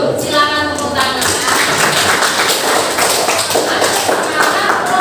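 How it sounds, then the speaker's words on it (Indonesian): A classroom audience claps after a class presentation, a dense, steady wash of many hands that stays loud and even throughout, with faint voices mixed in. "Silakan tepuk tangan."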